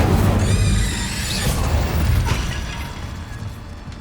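Confringo and Incendio spell explosions in Hogwarts Legacy, a loud close burst of booming blasts with crackling and a whooshing flare, then decaying rumble that fades over a few seconds.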